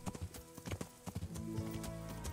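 Horse hooves gallop cross-country in the medieval game Kingdom Come: Deliverance, a steady close clip-clop rhythm of repeated hoof strikes running throughout with no speech.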